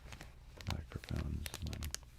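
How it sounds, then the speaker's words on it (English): A plastic snack bar wrapper is crinkled in bursts of crisp crackling, close and fairly quiet, with low voiced sounds mixed underneath. "snack bar wrapper. We'll do some crinkling of it to just space between"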